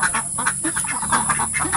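A group of Peking ducks quack in quick, overlapping bursts close by at a rural backyard in the Philippine province, with no talking.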